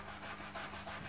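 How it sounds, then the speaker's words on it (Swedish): Wood on a Swedish M1815/45 musket being scrubbed with a brush and cleaning foam, with steady, close rhythmic brushing strokes along the grain and no talk. "Det blir alldeles brunt här skummet nu när jag borstar liksom."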